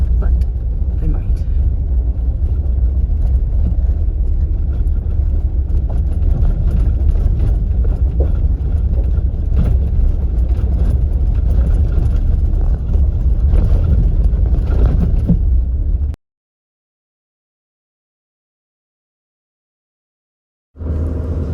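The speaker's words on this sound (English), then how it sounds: "So this is the ferry ride from Drummond Island back over to Detour Village, Michigan." A ferry crosses from Drummond Island to Detour Village, Michigan, its engine a loud, steady, close rumble with wind and water noise throughout, then falling silent near the end before the noise returns briefly.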